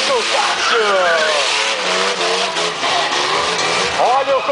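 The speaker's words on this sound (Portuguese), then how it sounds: "vai acelerando, vai subindo o giro" At a Pro Tork stunt show, an engine revs hard during a smoky burnout, rising and falling in loud sweeping bursts, with a voice talking over it.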